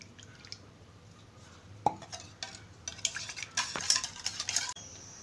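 Egg and milk being whisked together in a bowl as batter for a KFC-style zinger chicken burger, with close clinks and scrapes of a utensil against the dish growing busier and louder toward the end.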